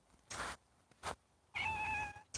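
A kitten meows outdoors near a thicket, giving two short soft cries followed by a longer, clear tonal meow, close and quiet against a still background.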